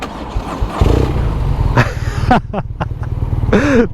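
A BMW R nineT (2014) boxer motorcycle engine idles and revs with a rough, lumpy, tractor-like pulse, loud and close, punctuated by a few sharp mechanical noises.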